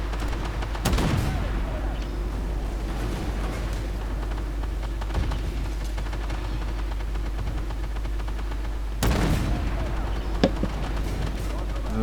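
Autocannon fire from the tank game Armoured Warfare, a couple of sharp heavy shots standing out over a constant low engine rumble, with a player talking now and then.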